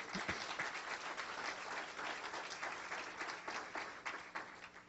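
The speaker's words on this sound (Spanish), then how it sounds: "Dale un aplauso al Señor" A church congregation claps together during a sermon, heard as dense, steady applause filling all five seconds without a break.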